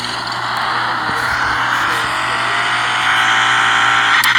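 A truck engine runs on a dyno in a video game, a loud steady drone that climbs slowly in pitch as revs build over several seconds.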